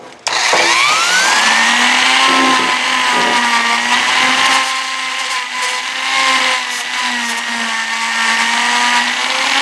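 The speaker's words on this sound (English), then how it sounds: "I ended up using the grinding tip like that, and I just lightly cleaned off all the rust" A rotary tool with a grinding tip spins up to a high, steady whine as it cleans rust off a brake hose clip on a Chevrolet Vega. The loud, close tone wavers slightly as it bears on the metal.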